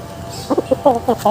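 A hen clucks several times in quick, uneven bursts, close and fairly loud over a low background hum.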